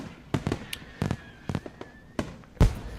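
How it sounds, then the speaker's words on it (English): Festival fireworks from the Katawa Shoujo visual novel: a series of sharp, crackling bursts at irregular intervals, with a bigger boom near the end over faint background music. "Sparking tracers arc upwards, ready to explode in the floral shape of fireworks."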